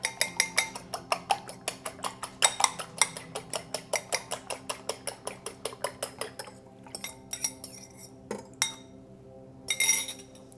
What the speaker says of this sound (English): We've got 2 eggs. I'm gonna give them a little whisk.